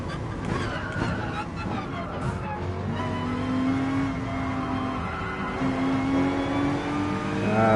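Race cars in a PS4 racing video game as an Audi overtakes, with engine tones rising and falling, a tire squeal and steady revving under a voice speaking throughout.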